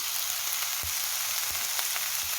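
Mushrooms added to a pan of stir-frying eggplant give a steady, dense sizzle throughout, close and continuous, with a few soft knocks of stirring.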